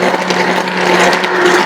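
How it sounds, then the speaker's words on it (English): A stick blender purees a protein ice cream mix, giving a steady, continuous motor whir with a constant hum throughout, close and fairly loud, with no talking. "Now we're going to use a stick blender."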